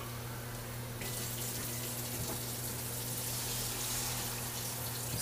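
A steady gush of about six cups of water pours into a pot of vegan étouffée, starting abruptly and continuing loud and even over a low background hum.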